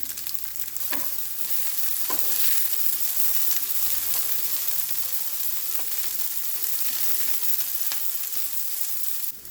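Peppers sizzling in extra virgin olive oil in a hot pan, a steady loud crackling hiss with occasional scraping stirs and soft clinks, close and without talk.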